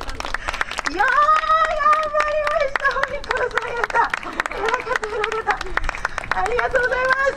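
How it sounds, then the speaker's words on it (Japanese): Audience clapping at an outdoor monkey performance, scattered applause with sharp hand claps running under a loud, sustained high-pitched shout or cheer that holds and wavers throughout. "大きな拍手をお願いいたします。"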